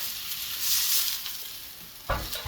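Vegetables searing in a hot pan, a brief close sizzle and crackle with a sharper clatter near the end.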